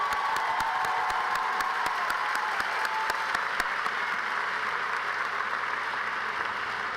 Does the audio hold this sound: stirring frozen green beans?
no